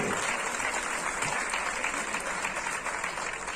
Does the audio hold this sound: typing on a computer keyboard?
no